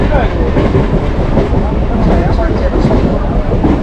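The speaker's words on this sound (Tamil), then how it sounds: "நாலு ஐம்பத்தி ரெண்டுக்கு கிண்டி ரயில்வே ஸ்டேஷன்லேருந்து ட்ரெயின் கிளம்பி இருக்குது" Onboard a train departing Guindy railway station: a loud, steady rumble of rolling carriages with rhythmic clatter and wind buffeting, heard from inside, continuous throughout.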